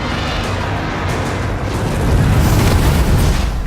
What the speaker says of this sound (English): Drogon's fire blasting does a lot of damage